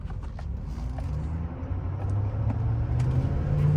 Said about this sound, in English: Ooh, a lot more rail rattle.